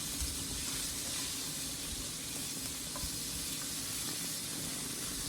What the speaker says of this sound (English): I just move it around a little, just let it grill and saute for a little while